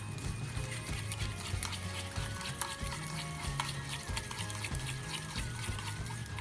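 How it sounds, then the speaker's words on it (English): Olive oil and lemon salad dressing being whisked in a bowl, a steady run of quick clinking and stirring strokes kept up throughout, close and fairly quiet over soft background music, with no talking. "And just whisk it nicely"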